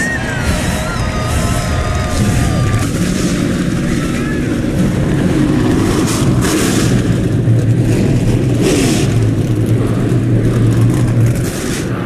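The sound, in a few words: race car engines starting and revving at Eldora Speedway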